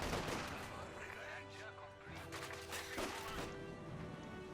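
In a Company of Heroes 2 battle, bursts of LMG-42 machine gun fire crackle amid dense gunfire and impacts, loud and continuous throughout.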